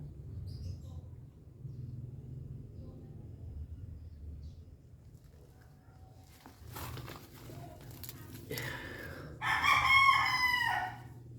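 A pure sweater gamefowl rooster crows once near the end, loud and close, after a stretch of low rumbling background and some brief movement noise.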